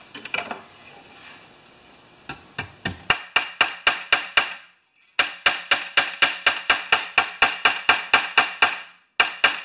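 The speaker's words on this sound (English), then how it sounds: "I'm just going to try and lay it relatively flat and hammer it out." Sharp metallic hammer blows flattening a metal spring from a Honda HRA214 mower's rewind starter ring out in quick, steady runs, loud and close, with a brief pause between bursts.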